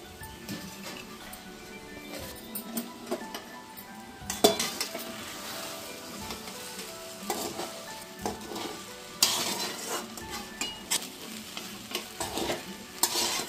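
Sago pearls (sabudana) tipped into a pan for khichdi and stirred, with steady scraping and clinks of a spoon against the metal pan, soft sizzling throughout and a few louder bursts of scraping.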